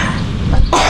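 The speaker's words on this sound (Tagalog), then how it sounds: "Inuubo pa ako ng konti." A single short, loud cough sounds close to the microphone and ends abruptly.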